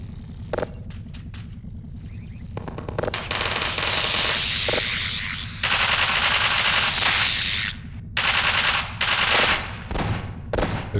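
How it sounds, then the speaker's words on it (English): Automated turrets in Half-Life 2 VR rattle off loud bursts of rapid machine-gun fire, some short and some sustained, with brief gaps between volleys. "We've got at least 2 more turrets to take care of."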